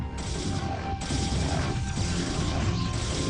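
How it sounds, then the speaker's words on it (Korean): A Protoss gateway is destroyed in a StarCraft match, with a steady stream of crashing, crunching game effects and mechanical clatter running loud throughout, no voices over it. "아 게이트 깨지는데요"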